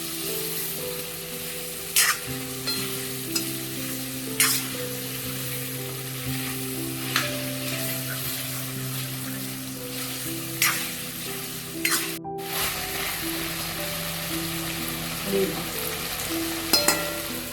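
Potatoes fry in hot oil with a steady, dense sizzle and crackle, close and continuous, with occasional light scrapes of stirring.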